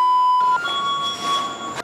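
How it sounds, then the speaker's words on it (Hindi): A motion sensor alarm sounds inside a house, a steady high electronic tone that gives way to a series of shorter repeated beeps over a hissing background, loud and close. "मोशन सेंसर ने अलार्म हाँ शुरू किया"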